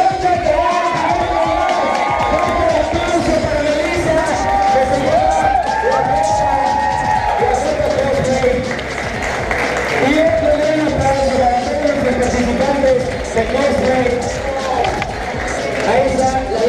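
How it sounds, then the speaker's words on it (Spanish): At a gaming convention in Ciudad Victoria, a loud crowd cheers and claps for a first-place winner, with whoops and shouting layered over music and a voice for the whole stretch. "un aplauso para Melissa Rocha."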